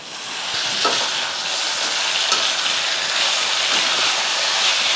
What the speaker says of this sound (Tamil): இப்போ நல்லா ஒரு ரெண்டு நிமிஷத்துக்கு வந்து நல்லா வதங்கட்டும் வெங்காயம் தக்காளி